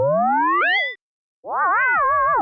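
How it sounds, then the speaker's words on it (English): Two synthetic warbling tones like robotic vocal chirps: a rising, sliding call, a short silence, then a wobbling, bouncing one, loud and clear. "Here's some vocal expression sounds."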